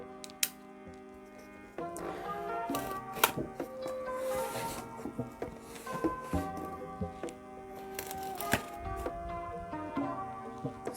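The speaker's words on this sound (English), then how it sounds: "So let's cut this open." A knife cuts open a taped cardboard parcel of Manga Spice Cafe goods, with close scraping, crinkling and sharp ticking strokes that come in irregular bursts.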